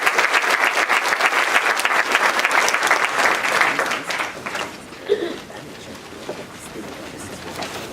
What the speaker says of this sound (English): Why don't you give him a hand?